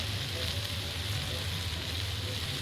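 Spiced masala with turmeric and chili sizzles in a pan while being sautéed, a steady close frying hiss and crackle running unbroken throughout.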